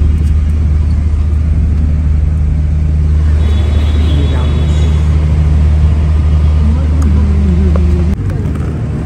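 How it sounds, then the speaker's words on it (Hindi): A car idling and creeping into a restaurant parking lot gives a loud, steady low engine rumble inside the cabin, with a slight change near the end as it settles, while voices talk over it. "गाड़ी पार्किंग में खड़ी हो रही है सर"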